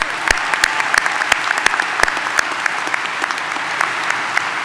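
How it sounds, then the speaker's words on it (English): Steady applause from a crowd at a high school graduation ceremony, many hands clapping continuously at even loudness. "Let's give them a round of applause, please."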